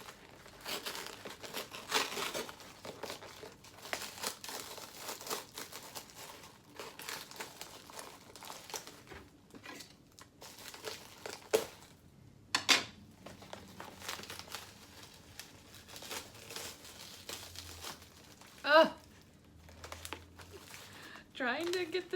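Tape being pulled off plant packaging makes close, intermittent crinkles and rustles in short irregular bursts, with a couple of sharper tearing snaps along the way.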